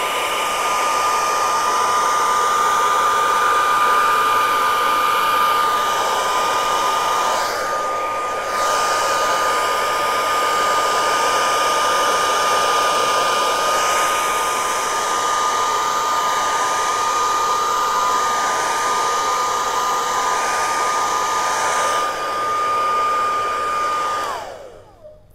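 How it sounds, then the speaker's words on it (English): A hair dryer on its hot setting, used on poured Tjhoko paint, runs continuously for about 25 seconds with a loud, steady, close-up whirring whine that cuts out abruptly at the end. "So the hair dryer initially was on a cold setting. I'm switching it on now to a hot setting."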